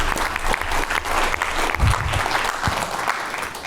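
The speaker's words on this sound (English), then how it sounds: "let's give a round of applause for AmpPost" Audience applause at a pitch contest, a crowd clapping steadily with a few louder individual claps and faint murmuring, fairly close and continuous before tapering slightly.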